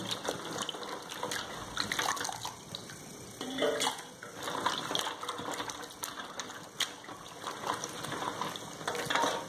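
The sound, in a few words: washing beans in water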